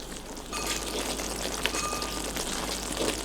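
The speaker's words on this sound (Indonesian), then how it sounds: "dimasukin bumbunya ke tambah ke minyak panas, ini ditunggu terlebih dahulu sampai si bumbunya ini matang" Spice paste for green fried rice sizzles in hot oil, a steady, fairly faint hiss and crackle with occasional small pops, no voices.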